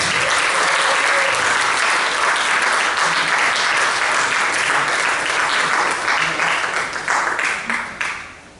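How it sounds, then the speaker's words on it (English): A theatre audience at a silent movie matinee and organ concert at A Center for the Arts applauds loudly and continuously, a thick roar of clapping that thins and fades out over the last second or so. "I want a round of applause to get them up there."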